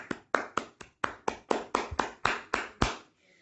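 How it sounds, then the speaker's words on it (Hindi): Applause at a Hindi Diwas celebration comes as about a dozen sharp, evenly spaced claps in a steady rhythm, close and loud, then stops. "जोरदार तालियां।"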